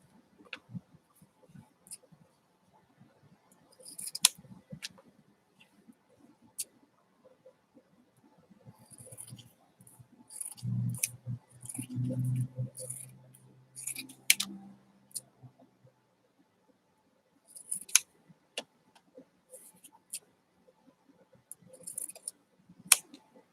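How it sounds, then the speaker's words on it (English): Fiskars Easy Action scissors cut out fabric patches up close, giving scattered crisp snips and clicks with quiet gaps, plus a brief stretch of soft handling rustle midway. "I'm just kind of cutting them out because my other scissors are what I want to use to get closer to the stitching."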